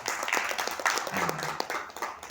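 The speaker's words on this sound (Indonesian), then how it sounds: "Tepuk tangan dulu dong." An audience claps at a corporate event for the Indonesian employment insurance agency BPJS Ketenagakerjaan, a fairly quiet patter of hands with a few sharper claps and faint voices underneath.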